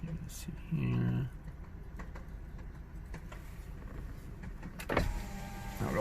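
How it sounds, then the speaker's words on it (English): A car's electric power window motor whirs briefly for under a second near the start, close and fairly clear, against quiet background room noise with a short clatter afterward. "I'll roll up the window"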